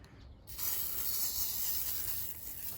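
Aerosol de-icer can sprayed onto a car windscreen on a winter morning: a short quiet start, then a steady, loud, close hiss of spray that runs continuously to the end.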